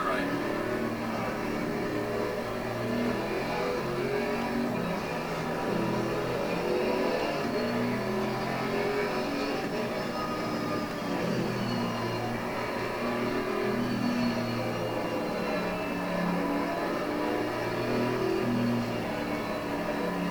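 A Mercedes-AMG race car engine in Assetto Corsa Competizione roars continuously and loudly at high revs, its pitch rising and falling slightly through the run, with some speech faintly beneath.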